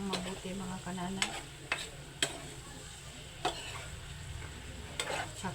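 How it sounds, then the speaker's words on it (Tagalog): Chop suey with oyster sauce being stirred in a pan: a steady sizzle under repeated scraping strokes of the spoon, with a few sharp clinks against the pan, close and clear, with no talking. "Halo-haloin ng mabuti"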